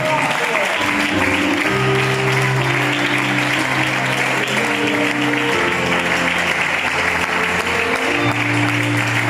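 A church congregation applauds during a service, giving a loud, sustained wash of clapping that runs the whole time. Music plays underneath with steady held tones and a strong low end.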